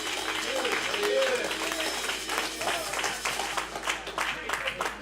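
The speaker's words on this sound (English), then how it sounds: "Y'all get excited and clap your hands" Church congregation applauding and clapping during an energetic sermon, a steady broadband patter of many hands at moderate level, with a preacher's voice and crowd voices mixed in.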